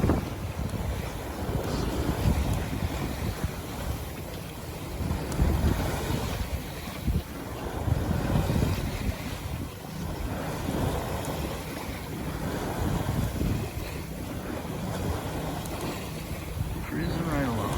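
A single-handed sailboat runs through open water in a 10.5-knot breeze, making about six knots, with continuous wind buffeting and a rushing wash of water along the hull that swells and eases throughout.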